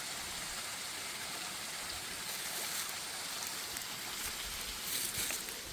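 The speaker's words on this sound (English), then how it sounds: "we had quite a bit of rain with that storm, so we got to see the waterfall" Spring-fed waterfall in Mammoth Cave country running full after storm rain, a steady, hissing rush of falling water heard from nearby, alone and fairly constant with slight surges.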